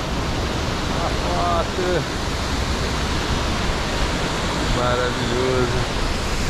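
Steady broadband roar of Cachoeira dos Viados, a waterfall on the Trilha do Ouro hiking trail near São José do Barreiro, filling the scene loudly and continuously while people talk and call out over it.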